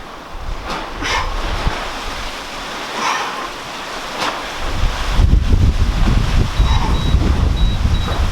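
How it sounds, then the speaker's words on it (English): Wind buffets an outdoor microphone during a lunchtime home HIIT workout, with gusty low rumbling that swells and grows heavier toward the end, and a few faint beeps underneath. "Oh, windy, eh?"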